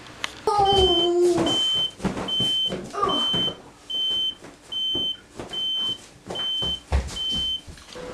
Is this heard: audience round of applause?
no